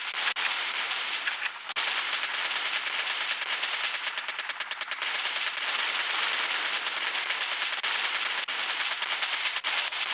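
Level 13 minigun fired in the Gunship Battle video game: a loud, continuous rapid-fire rattle of shots running almost the whole time, with one brief break near the start.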